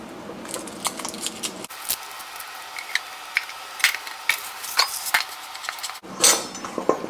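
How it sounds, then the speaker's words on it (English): A kitchen knife slices a garlic clove in half and the peel comes off on a cutting board, producing close, sharp little knocks and clicks that come alone without talking. "Just slice this in half and remove the peel."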